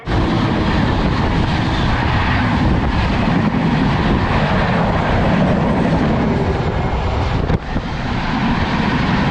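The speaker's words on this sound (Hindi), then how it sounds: "अपनी ट्रेन बल्हारसा के प्लेटफॉर्म नंबर 1 पे आई है" The Danapur Secunderabad Express 12792 stands at Balharshah platform 1 in monsoon weather, giving a loud, steady rumble of train and station noise that runs the whole stretch with a brief dip near the end.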